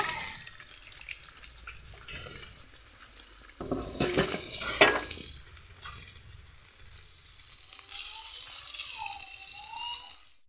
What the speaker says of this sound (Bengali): আলুগুলোকে একটু ধুয়ে নেব।